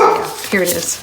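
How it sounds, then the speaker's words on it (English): A dog barks a few times nearby, sharp yips mixed in with a person talking over it. "Sorry about the barking. I don't know what to do with that dog."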